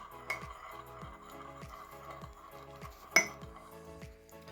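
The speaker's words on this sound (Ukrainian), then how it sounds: "Добре переколотюємо, щоб сіль розчинилась у воді." A teaspoon clinks and scrapes against a glass or bowl, stirring salt into water in a steady rhythm, with one sharper clink partway through; no talking.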